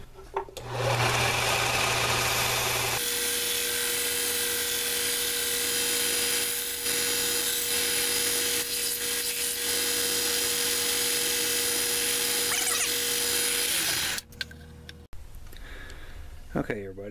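A wood rasp bit spinning in a power drill shapes a knife handle, giving a loud, steady whirring grind for about eleven seconds with a faint tonal hum, then it stops and briefly restarts near the end.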